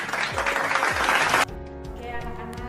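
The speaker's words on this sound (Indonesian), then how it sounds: "Kita beri tepuk tangan untuk Rapi." A classroom of children claps for a student who gave a right answer, producing a burst of dense applause that stops sharply partway through, followed by quieter room noise.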